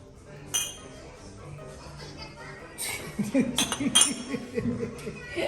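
Glasses clink together in a toast after a meal at a birthday celebration, several bright chinks clustered together amid chatter and chuckling.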